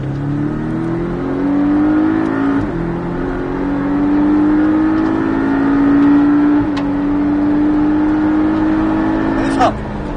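Porsche Cayman 718S Sprint racing car accelerating hard around the Mettet circuit, engine note rising and falling steadily through gear changes from the cabin, with an instructor talking over it throughout.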